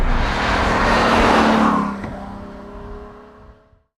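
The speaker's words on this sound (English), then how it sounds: "sounds of Ferrari V12 to go with your nice fall day in the valley" A high-revving Ferrari V12 engine screams past, loud and close, then fades into the distance as its tone drops.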